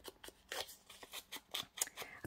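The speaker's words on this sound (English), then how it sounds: "Then I'm going to cut the bottom off." Scissors cut the bottom off a sheet of paper for altered book ephemera, a close, steady run of about ten crisp snips in quick, even rhythm with no talk.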